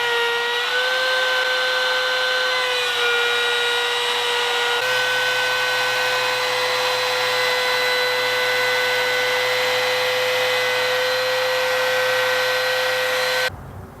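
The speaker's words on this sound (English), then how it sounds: "using a straight cutting bit on my router table, I'll just cut a shallow channel for the blade to sit in." A router table spins a straight cutting bit through wood to cut a shallow channel. It makes a loud, steady, high-pitched motor whine that holds for the whole stretch, then stops abruptly at the end.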